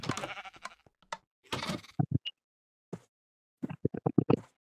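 Sheep in a blocky crafting video game bleat in short, repeated bursts, several calls in quick succession, close and clear, with quiet gaps between them and no talking over them.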